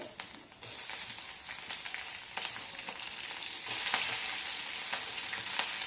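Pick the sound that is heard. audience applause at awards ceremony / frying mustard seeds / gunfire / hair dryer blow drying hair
frying mustard seeds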